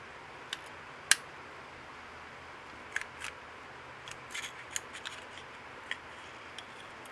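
Small sharp metallic clicks and clacks come from a dirty pistol being disassembled as its slide is pulled off. The sounds are scattered, quiet and close, over a faint background hiss.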